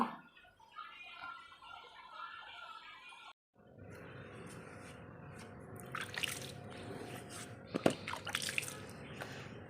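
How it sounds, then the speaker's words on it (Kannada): Water is splashed and poured while a doorstep is washed in the morning. Quiet sloshing and dripping follow a brief gap, with a few sharper splashes near the end. "ಬಾಗಿಲ ಮುಂದೆ ಎಲ್ಲ ತೊಳಿತಾ ಇದ್ದೀನಿ ಫ್ರೆಂಡ್ಸ್"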